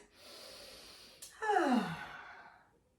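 Breathing during a pregnancy pilates exercise: a soft, drawn-out exhale, then a louder sighing breath out that fades away, close and alone.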